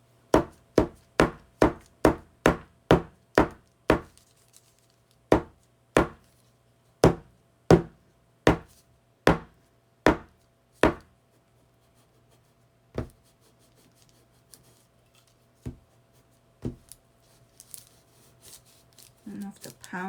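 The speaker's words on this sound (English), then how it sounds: "I'm going to try to pound that and see how that works." Sharp, evenly spaced knocks from pounding a small patio fern onto paper, a quick run of about a dozen strikes followed by slower, sparser hits and faint rustling toward the end.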